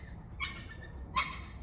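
The neighbors' dog barks twice across the street, two brief, somewhat distant yaps about a second apart over a low background hum.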